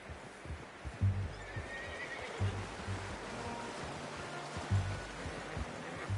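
A horse whinnies clearly over steady hoof clip-clops, with soft ambient background in a Western-themed video game.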